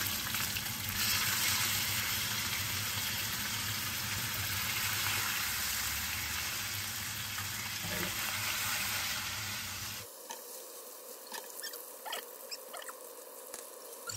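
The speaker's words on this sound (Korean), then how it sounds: "이렇게 해서 좀 바글바글 소리가 난다 싶으면 이때 넣으면 돼" Spices for mala xiang guo sizzle and crackle loudly in hot oil for about ten seconds, then the sound drops to a softer, patchy bubbling with scattered pops.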